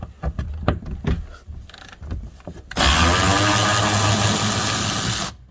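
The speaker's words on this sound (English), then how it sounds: "Bought this Milwaukee speed ratchet a while ago. It's just now starting to speed up because it's so cold." Milwaukee speed ratchet backing out skid plate bolts on a Hyundai Sonata 2.4L during an oil change in cold weather: a few sharp clicks and taps, then a loud, steady mechanical whir that runs for several seconds and stops abruptly.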